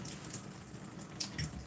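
Water runs from a tap being used to warm up water, a short steady hissing stream heard close and alone.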